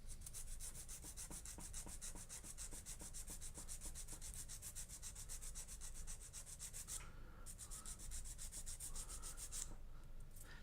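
A foam sanding block rubs steadily over a B-24D model airplane part in quick, even back-and-forth strokes, close and continuous for the whole stretch with no talking.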